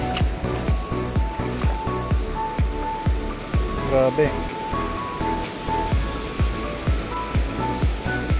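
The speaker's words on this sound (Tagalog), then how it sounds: "malalakas na mga alon" Strong ocean waves crash and surge in a steady roar, with a rhythmic thumping underneath and a voice briefly exclaiming.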